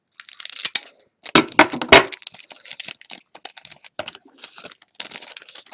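Plastic wrapper of a 2012-13 SeReal KHL Gold Collection hockey card pack torn open up close, giving crisp crinkling and crackling bursts with short pauses, loudest around the middle.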